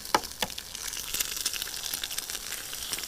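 Eggs frying in butter in a camping pan, a soft crackling sizzle with a few sharper spits and pops near the start, steady and fairly close.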